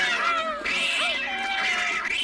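A cartoon cat meows in a drawn-out, wavering, whiny cry, loud and close, with no voices over it.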